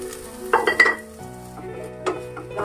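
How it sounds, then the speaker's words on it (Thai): Pork stir-fries with chili paste in a pan, a low sizzle punctuated by a few sharp clinks and scrapes of a utensil against the pan, close by. "ใส่หมูลงไปคั่วกับน้ำพริก"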